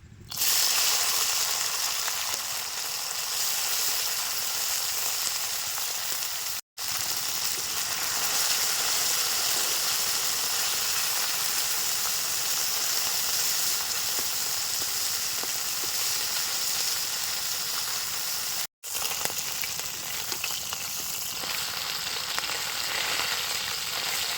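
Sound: chela fish frying in mustard oil in a wok

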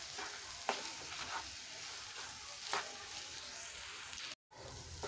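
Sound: potatoes with spices frying on slow flame

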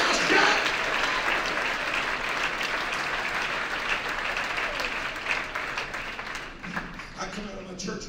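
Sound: convention audience clapping hands

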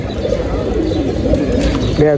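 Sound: pigeons cooing

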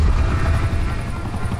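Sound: attack chopper helicopter in Call of Duty Black Ops 4 video game

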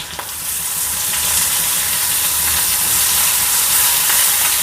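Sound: spice tempering sizzling in oil

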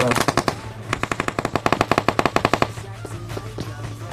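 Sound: gunfire in the PUBG Mobile video game

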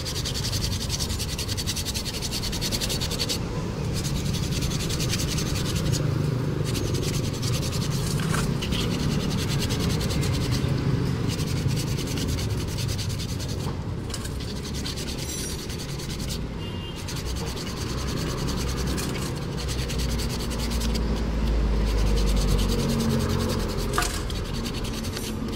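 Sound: hand sanding a Honda Revo motorcycle part

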